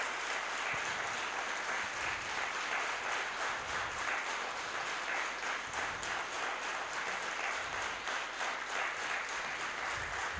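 An audience at an indoor class claps continuously, a dense, steady patter of many hands sustained at an even level throughout, with no talking over it.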